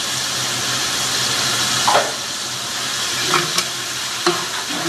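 Sliced onions fry in hot oil for tahari, a steady broad sizzle throughout with a few soft scrapes and stirs of a spoon in the pan.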